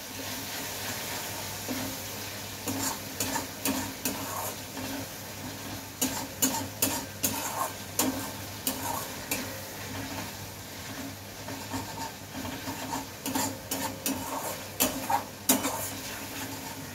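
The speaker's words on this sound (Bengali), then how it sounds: "হলুদ দিয়ে আবার এটাকে নাড়তে হবে" A spoon scrapes and stirs spices with turmeric frying in a pan, giving rhythmic clattering strokes over a steady low sizzle, close and fairly loud throughout.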